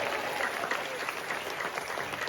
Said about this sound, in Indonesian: Tepuk tangan untuk Amin, amin.